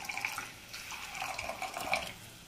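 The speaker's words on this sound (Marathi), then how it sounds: "आता पाणी एक ग्लासभर पाणी वर टाकलेलं आहे मी" Water from a glass poured over dry onion chutney with sandgi vadi cooking in a pan, a steady splashing, trickling pour with faint clinks, close and moderately loud, no talking.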